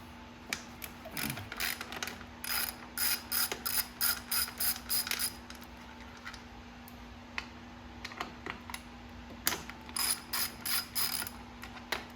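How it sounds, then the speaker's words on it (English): A ratchet tightens a silencer bolt on a 2018 Honda CRF450R motorcycle: bursts of rapid clicking strokes repeat in a steady rhythm, close and crisp, against a low constant background hum. "Put this bolt back in the silencer."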